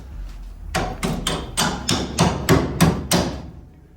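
Hammer tapping a bolt into the leaf spring shackle of a 1986 Ford F150: eight loud, close metallic strikes in a steady rhythm about every third of a second, each with a brief ring.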